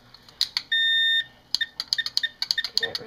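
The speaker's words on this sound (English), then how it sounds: "I'm going to set the timer" Kitchen timer on a stovetop while cherry pie filling is made, giving short electronic button beeps, one long steady tone, then a quick run of irregular chirping beeps close by.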